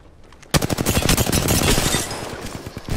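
Rapid automatic gunfire from Apex Legends on PS4 erupts after a brief quiet start and keeps rattling loud and close in a dense burst that thins toward the end.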